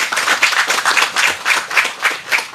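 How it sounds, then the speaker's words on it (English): An audience at an agri-technology training centre handover ceremony claps in a brisk, rhythmic round of applause, fairly close and steady, with no talk over it. "So I want you to give them a round of applause."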